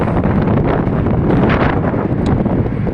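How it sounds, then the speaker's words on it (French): Strong wind blowing across a pedestrian overpass (La Passerelle des Sources): loud, continuous roaring gusts buffeting the microphone for the whole stretch. "it is really windy up here"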